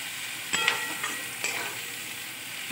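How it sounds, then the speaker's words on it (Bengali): Onions frying in a pan for a Bengali dish of lata fish with kochur loti, a soft steady sizzle with a few sharp stirring scrapes and clicks, close and moderately quiet, no voices. "পেঁয়াজটা আগে একটু ভাজা ভাজা করে নিই"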